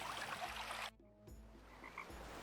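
A chorus of frogs croaking loudly and continuously. It breaks off into near silence briefly, then the croaking resumes.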